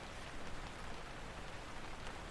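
Steady, soft rain falls on a surface indoors, a faint continuous hiss with scattered patter and no voices.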